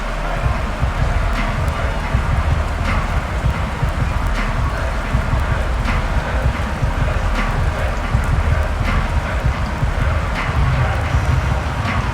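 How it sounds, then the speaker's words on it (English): Steady rain falls during a Madden 23 football game between the Broncos and Eagles, a dense even hiss that holds throughout with faint scattered spatters and low broadcast voices beneath it. "The rain set to continue as we are underway in the second half."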